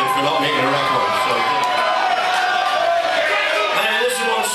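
A live audience at a Stiff Little Fingers punk concert at The Brook in Southampton cheers and shouts loudly and steadily, a dense continuous roar of voices filling the room.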